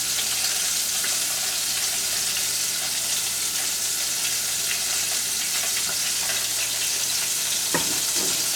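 Honey sizzles on low heat in a pan of crispy fried chicken, a steady close hiss with light stirring clicks and a faint clatter near the end, no voices.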